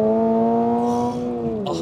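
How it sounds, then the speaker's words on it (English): A 2023 Toyota GR86 engine revving high from inside the car, a loud sustained tonal whine that holds steady and then drops in pitch near the end. "Oh, got that revs high."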